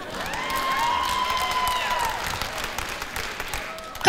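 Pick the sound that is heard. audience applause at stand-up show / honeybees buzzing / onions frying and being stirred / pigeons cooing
audience applause at stand-up show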